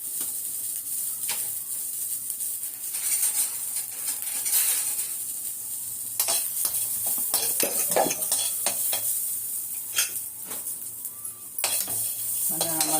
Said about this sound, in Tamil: சோம்பு இது கொஞ்சம் வறுத்துக்கலாம்.